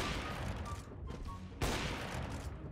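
Gunfire in a CS:GO match, a close burst of rapid shots followed by a sharp loud blast, with a player's voice talking faintly over the game sound.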